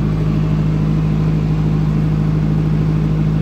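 A Tsuzumi TDG 30, a 30 kVA three-phase generator set, runs at normal load, giving a loud, constant engine drone with a steady low hum and no change in pitch.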